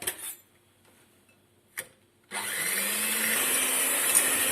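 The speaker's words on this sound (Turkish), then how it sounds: "Bir su bardağı şekeri katıyorum. Ve uzun bir süre çırpıyorum." Three eggs and a cup of sugar are whisked for brownie batter; after a short quiet stretch with a couple of clinks, a loud steady whirring starts up close and keeps going without pause.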